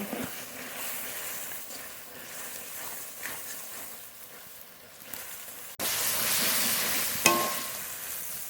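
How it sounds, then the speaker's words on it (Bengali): Spice paste for Mirchi Murgh sautés in oil with a little water, a soft, steady frying crackle that suddenly swells into a loud, hissing sizzle partway through, with a sharp clink near the end. "বাটিতে একটু মশলা দেওয়া জল দেব জল মশলা খুব ভালো করে কষিয়ে নেব"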